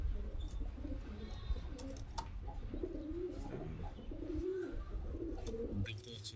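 Soft, low pigeon coos come and go at a pigeon loft keeping fancy breeds such as Madrasi and Malwai, against a steady background hum with a few faint chirps and clicks.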